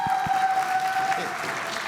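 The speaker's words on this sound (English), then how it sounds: "If I can ask the audience to hold their applause so that you don't take time away from the candidate" An audience at an APPNA board of directors election debate applauds briefly after a candidate speaks. It is a short burst of clapping with a couple of low thumps and a faint steady tone underneath.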